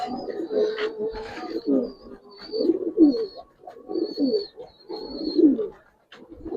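A Giribaz pigeon perched on a hand coos in repeated soft, throaty phrases, close and clear, with short pauses between each call.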